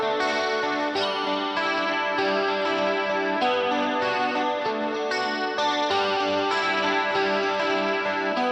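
Clean electric guitar treated with chorus and delay plays a sustained, shimmering pop part, chords ringing steadily at an even, full level from start to finish with no voices.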